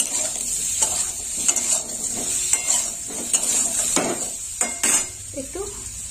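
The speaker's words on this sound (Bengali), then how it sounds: "আর একটু ভাজা হবে ওলটা।" Cubed elephant foot yam fries in oil and is stirred in a pan, giving a continuous close sizzle with repeated scraping and clinking strokes of a utensil against the pan.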